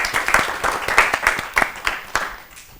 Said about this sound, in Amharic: እሺ አጨብጭቡላቸው።